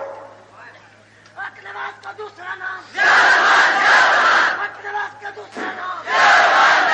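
Large crowd at a religious rally bursts into loud collective chanting and shouting of slogans, swelling in waves over a reverberant public-address hum, after a stretch of quieter murmuring.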